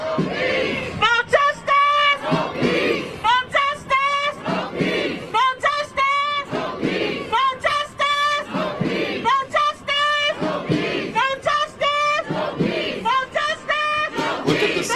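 A large, masked crowd at a live street event cheers and chants in continuous waves, with strong rhythmic shouting throughout and voices overlapping close and loud.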